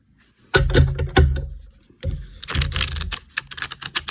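Two bursts of crisp, rapid riffling of a tarot card deck, close by, each a fluttering flurry of paper snaps separated by a short pause.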